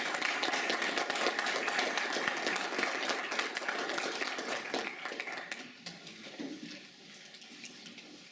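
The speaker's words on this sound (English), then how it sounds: "he deserves a really big applause" An audience at an evening presentation gives sustained applause, dense and loud at first, then thinning and fading toward the end.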